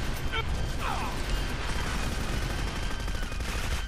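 Gunfire in the video game Clive Barker's Jericho during an armored demon fight, a dense continuous barrage of shots and mechanical clatter filling the whole stretch at steady loudness, with voices in the mix.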